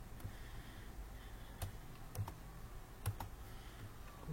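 Quiet clicks from a computer keyboard pressing copy-and-paste shortcuts, a few sharp isolated key taps spaced irregularly over faint room hiss.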